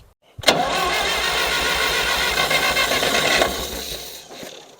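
A 1960s John Deere 1010 W tractor engine, sitting unused for 18 years, cranks loudly and steadily for about three seconds without catching, then winds down.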